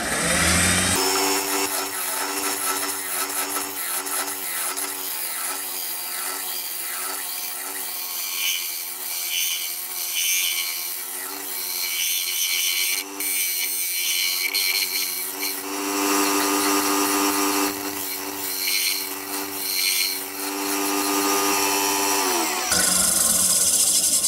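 A woodturning lathe spins an ash platter blank while a tool shapes and thins its edge, giving a steady humming drone with scraping cutting noise that runs almost continuously before stopping near the end.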